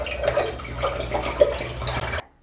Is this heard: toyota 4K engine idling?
no